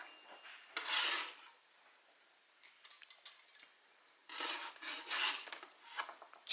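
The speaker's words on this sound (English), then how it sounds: "we're going to take them off the pan and place them on the cooling rack" Freshly baked sunbutter buckwheat cookies are scraped off a baking pan with a metal spatula and set on a cooling rack, soft rasping scrapes and light clinks in two clusters, close and quiet with no talk.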